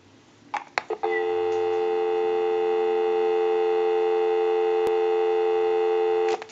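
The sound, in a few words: telephone dial tone from a switch box line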